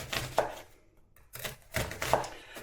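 A knife roughly chops a red onion on a board, making a few sharp, close taps in two quick bursts separated by a short pause.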